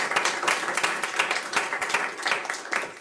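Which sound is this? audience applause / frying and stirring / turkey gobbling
audience applause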